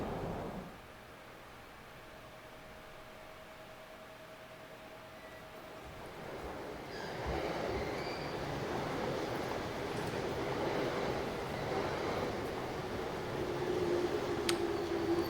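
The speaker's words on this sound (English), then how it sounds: "Upon coming to a full stop at the station, train doors opened" A train pulls into Shibuya Station in the visual novel game Chaos;Head Noah. It begins as a soft, hissing rumble, and the rolling noise grows fuller and louder about halfway through, with a faint high tone near the end.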